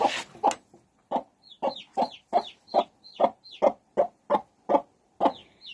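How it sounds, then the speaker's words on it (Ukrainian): Chicks peep in high, rising chirps alongside a hen's low, rhythmic clucking, about a dozen evenly spaced calls, close and clear. "І курчата кличуть свою маму."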